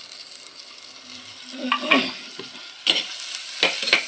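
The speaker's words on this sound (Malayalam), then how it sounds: "രണ്ട് ചെറിയ സൈസ് തക്കാളി കേട്ടോ നമുക്ക് ഇതിലേക്ക് ഇട്ടെടുക്കാം" Shallots and two small chopped tomatoes sautéing in a pan as the base for a fish curry, with a soft sizzle and intermittent scraping stirs that grow busier toward the end, no voices.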